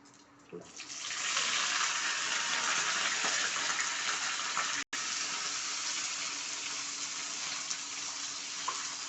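Fenugreek seeds tossed into hot oil for an okra curry (bendakaya kura) erupt into a loud, dense sizzle. The crackling surges within the first second and holds steady, with a brief cut partway through.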